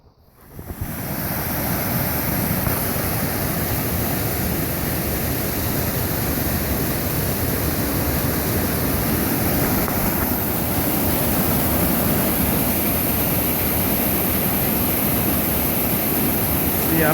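Rattlesnake Creek runs in the wilderness, its flowing water a dense, steady rush that fades in within the first second and then holds loud and unbroken.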